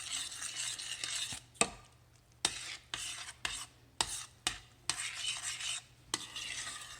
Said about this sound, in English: And then you stir in your green beans.